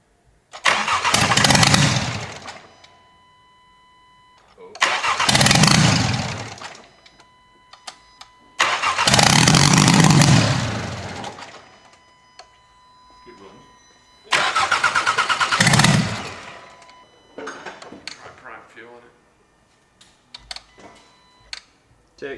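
An Audi TT race car with no downpipe cranks over in four loud, separate bursts of about two seconds each, with pauses between them. Faint clicks follow at the end.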